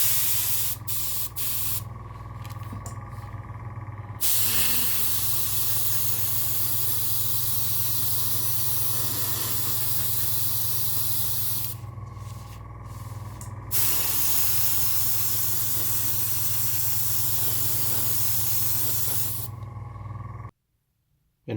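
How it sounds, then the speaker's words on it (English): Airbrush spraying Vallejo Black Grey pre-shade onto primed model hull parts for a Bandai Perfect Grade 1/72 Millennium Falcon, a steady close hiss running almost continuously with two brief breaks before stopping. "now I'm going to paint them, pre-shade them with a Vallejo's Black Grey"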